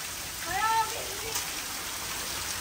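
Heavy rain pours down in a steady, dense hiss during a hailstorm, with a brief voice heard over it early on.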